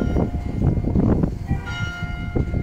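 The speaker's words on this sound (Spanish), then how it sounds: "Escuchar las campanadas de mi pueblo me remueve hasta las almorranas" Church bells ring out over the town of Sombrerete, Zacatecas, Mexico, a series of loud overlapping clangs with lingering metallic ringing tones.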